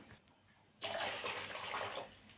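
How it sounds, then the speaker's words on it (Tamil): Water pours steadily into a pan of frying masala for drumstick-leaf kuzhambu, a bright rushing splash that starts abruptly and runs for over a second before tapering off. "தேவையான தண்ணி ஊற்றிக்கலாம்"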